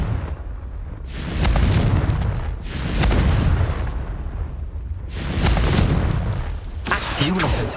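Confringo blasting-spell explosions in the Hogwarts Legacy video game, with three loud, rumbling booms that each swell and fade, then a sharper burst at the end.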